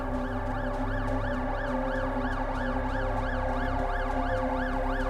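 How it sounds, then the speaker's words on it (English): Wailing ambulance siren in the video game The Alters, rising and falling in steady repeated sweeps, loud and continuous over a constant low engine-like drone, with no talking. "Ambulance."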